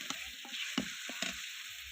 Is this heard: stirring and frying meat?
yes